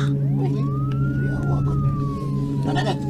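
A police siren wails in a rising and falling sweep as police arrive in a drama scene, steady and prominent over a low hum and background noise.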